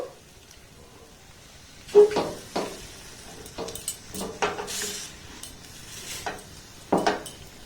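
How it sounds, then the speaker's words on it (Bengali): Semolina for gulab jamun is stirred in a pan with a spoon, making a series of close, scraping and clinking strokes that start after a quiet moment and repeat irregularly, with no talk. "1 কাপ দেওয়ার পর একটু এইভাবে নাড়াচাড়া করে নেব।"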